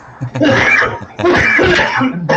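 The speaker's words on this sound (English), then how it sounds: "Yeah, coughing." Two loud, harsh coughing bursts close by, each a raspy fit lasting under a second, followed by the start of a third.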